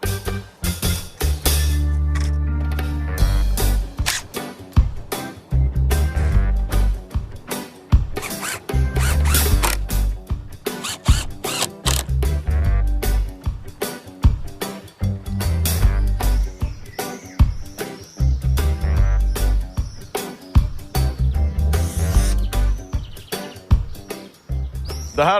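A deck skirting board gets screwed into place outdoors with a power driver, loud close bursts of whirring and ratcheting in repeated short runs separated by brief pauses, birds chirping faintly in between.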